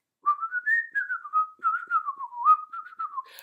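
A voice whistles the melody of the whistle part from a K-pop song, a clear, close, wavering tune of short rising and falling phrases lasting about three seconds.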